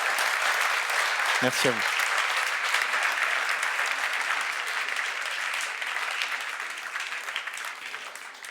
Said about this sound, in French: applaudissons-les une dernière fois, s'il vous plaît